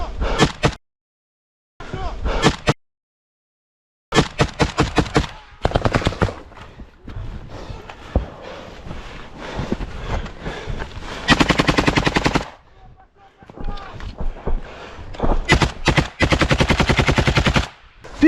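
Automatic rifle fire in combat on a battlefield in Ukraine, with loud close bursts of rapid shots coming in several long volleys, separated by short gaps, and shouting voices mixed in.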